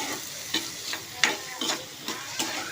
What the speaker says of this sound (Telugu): ఉల్లిపాయలు పచ్చిమిరపకాయలు వేసుకుందాంరా. ఇవి నూనెలో ఫ్రై చేసుకుందాం.